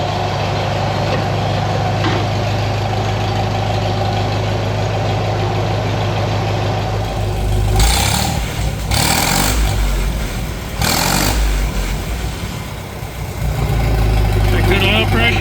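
An old tractor engine that sat parked for years idles with a steady, low, heavy drone up close, its rumble continuing under a man's speech and a few clanks and rustles.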